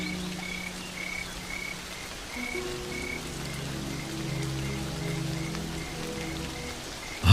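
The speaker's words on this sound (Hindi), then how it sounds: "ये अचानक बारिश हो जाना सामान्य नहीं लग रहा।" Sudden heavy rain on the Serengeti plains pours steadily on the ground, a dense even hiss, while frogs croak in a repeating rhythmic chorus underneath and a faint insect buzz carries through; no voices.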